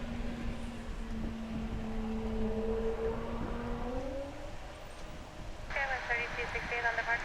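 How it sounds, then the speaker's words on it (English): Airbus A220-100 jet engines at Dallas/Fort Worth International Airport give off a groaning, tonal whine that slides upward in pitch over a steady roar. A second, higher whine comes in near the end. "honestly don't know why they couldn't have engineered that groaning sound out of those engines before they were deployed"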